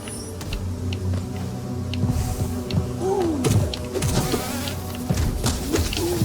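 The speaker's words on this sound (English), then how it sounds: "this place is so full of bees" Buzzing insect swarm in the Hollow Knight video game, a steady droning hum with shifting wingbeat tones layered over game music and clicks, continuous and fairly loud throughout.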